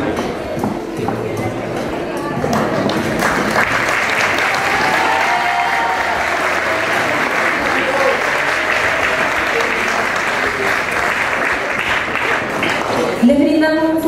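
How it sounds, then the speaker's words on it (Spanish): A crowd at a Día del Profesor ceremony applauds teachers honoured for years of service: sustained, loud, dense clapping that fills the whole stretch, with voices mixed in and a brief burst of talk near the end. "Les brindamos un fuerte aplauso."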